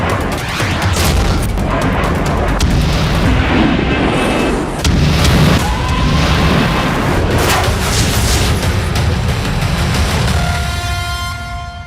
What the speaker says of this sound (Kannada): ಎಲ್ಲೆಂದರಲ್ಲಿ ಕ್ಷಿಪಣಿ ಬಾಂಬ್ ಬೆಂಕಿ